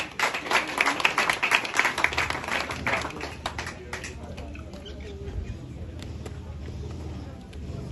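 Applause from the audience at a graduation ceremony for vocational school teachers, a dense burst of clapping lasting about three seconds that thins out into room noise and faint chatter.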